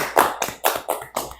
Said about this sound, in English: I'd like to give an applause to what you just said.